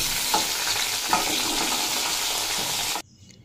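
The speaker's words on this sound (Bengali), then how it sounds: "ওই তেলেই দিয়ে দেব এঁচড়গুলো।" Pieces of young jackfruit are stirred in hot oil already used for frying potatoes. A loud, dense sizzle runs with a couple of sharp utensil scrapes, then cuts off abruptly near the end.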